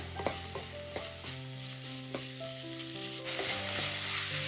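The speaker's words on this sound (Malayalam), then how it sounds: "ഒന്ന് ഇളക്കി കൊടുക്കാം ചെറുതായിട്ടൊന്ന് സവാളയൊക്കെ ഒന്ന് വാടി വരട്ടെ" Onion and green chillies fry in a pan with a soft, steady sizzle and light stirring scrapes, overlaid by gentle background music with sustained tones. No one speaks.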